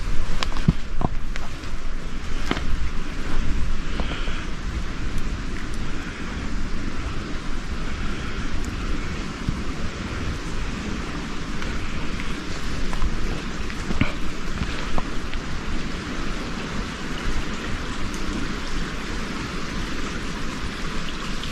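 Steady wind and rain wash through a forest, a constant dense hiss with occasional louder gusts and drops, continuous and unbroken with no voices.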